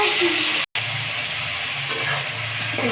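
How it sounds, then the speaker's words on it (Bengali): Watermelon peel fries in a pan with a close, steady sizzle and a scraping stir, briefly cut by a moment of silence. "এটাকে একটু ভালো করে ভেজে নেব"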